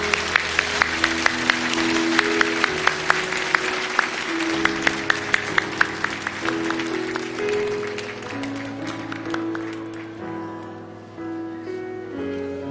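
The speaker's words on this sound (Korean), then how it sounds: "뜨거운 박수로 축복합니다" Warm applause from a church congregation during a sermon rises over soft music and continues steadily, gradually fading toward the end.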